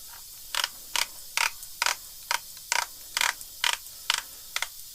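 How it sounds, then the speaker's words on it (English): Remington 11-87 shotgun magazine cap screwed back on by hand, giving about eleven evenly spaced dry ratcheting clicks at close range with no talk. "Our magazine cap goes back on."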